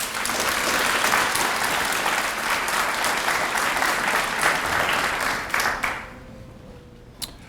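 A crowd applauds students at a school recognition ceremony, dense steady clapping that holds for several seconds before thinning into a few last claps and near quiet.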